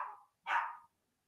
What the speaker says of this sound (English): I hope the dogs didn't annoy you too much today